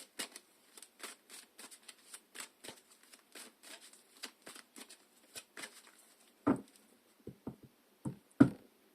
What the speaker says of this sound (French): Je vais encore les mélanger.